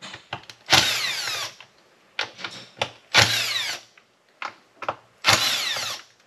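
Power driver spinning out the screws holding the recoil starter on a Stroker 7310 chainsaw engine: several loud, close whirring bursts, each a second or so long, separated by short pauses and small clicks.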